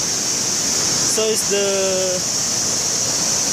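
A large waterfall in West Sumbawa, swollen after heavy rain, roars as a steady broadband wash, with someone briefly speaking over it.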